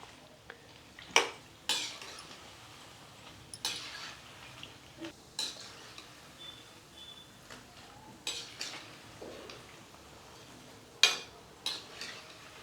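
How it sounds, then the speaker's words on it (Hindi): A spoon clinks and scrapes against a pan while turning cabbage pakoras frying in oil, producing scattered metallic taps and knocks over a faint, quiet background, with no voices. "अब इसमें हम चम्मच चलाकर इसे उलट पलट कर अच्छे से फ्राई करेंगे।"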